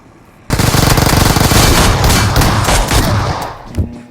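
Rapid automatic gunfire in a video game bursts in suddenly and keeps going as a dense, loud rattle for several seconds, then tapers off.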